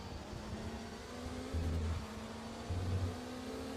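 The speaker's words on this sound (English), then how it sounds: "This car also doesn't sound good." Race car engine in the RaceRoom racing game, a steady droning tone with two brief louder swells as the engine note rises, moderately faint.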